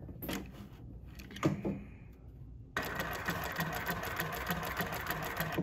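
A Juki LH-3528A industrial sewing machine running, first a few short stitching bursts, then a continuous fast, even mechanical whir with rapid rhythmic clatter, close and steady.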